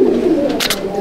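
Pigeons in a loft at Barrackpore give a brief, low cooing murmur over a steady background hum, with a couple of soft rustling bursts.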